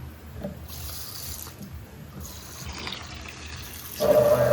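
Water poured over rice in a kitchen to rinse it before cooking jeera rice, a steady running, splashing wash lasting several seconds and growing louder and fuller near the end, with no talk.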